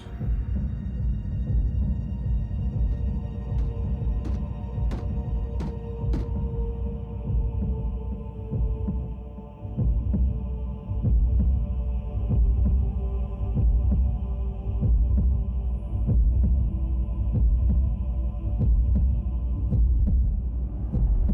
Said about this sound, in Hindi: यही आवाज मेरे जहन में गूंज रही है। Cybertronian heartbeat?